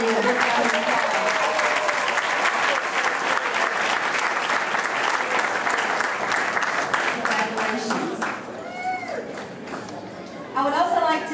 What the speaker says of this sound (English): So let's give Heidi a big round of applause.